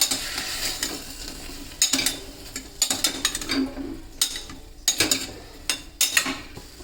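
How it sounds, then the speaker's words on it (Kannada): Banana stem gravy being stirred in a pan, with a utensil scraping in repeated bursts over a faint sizzle, close and fairly loud with no talking. "ಒಂದ್ಸಲ ಮಿಕ್ಸ್ ಮಾಡೋಣ"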